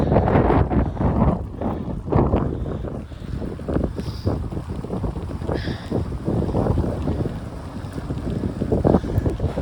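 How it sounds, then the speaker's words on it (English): Steady warm wind buffets the microphone with a low rumble, gusting continuously throughout near a yacht harbor, alongside faint water and boat noise. "The wind is unusual warm."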